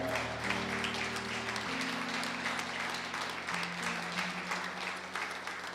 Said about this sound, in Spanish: Dele un fuerte aplauso a Dios esta mañana